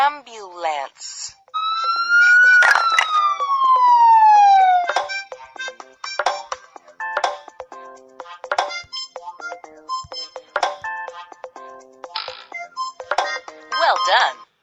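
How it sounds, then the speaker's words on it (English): Ambulance siren sound from a toddler vehicle puzzle, a loud rising and falling wail near the start followed by short electronic tones and chirps, with a voice speaking between sounds. "Ambulance."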